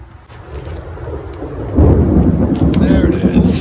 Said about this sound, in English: Storms are brewing.